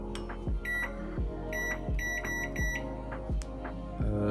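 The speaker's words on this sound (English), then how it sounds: "Here you go. Microwave." Microwave oven humming steadily with a low drone while a series of short electronic beeps sounds in clusters, alongside repeated soft thuds.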